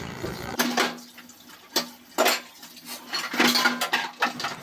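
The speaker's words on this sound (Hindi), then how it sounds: "सुबह के लंच के बर्तन हो गए थे तो उनको कर लेती हूँ मैं वॉश" Lunch dishes and utensils being washed by hand at a kitchen sink, with irregular clinks and clatters of steel utensils and plates over running water, close and fairly loud.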